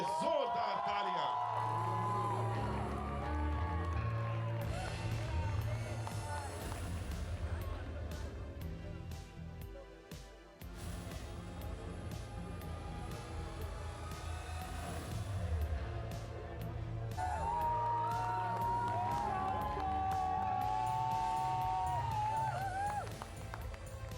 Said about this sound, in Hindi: And of course, filmmaker extraordinaire Vishal Bhardwaj ji के लिए जोरदार तालियां.